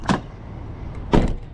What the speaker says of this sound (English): you can close your door as you fill up